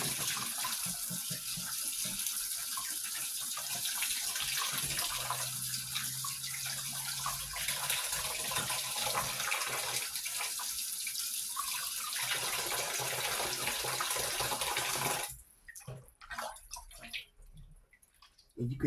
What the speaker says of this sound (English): Washing them off again.